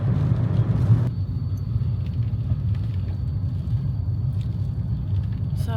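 Low, steady engine rumble from a car idling or crawling in a traffic jam, continuous and close, with a louder burst in the first second.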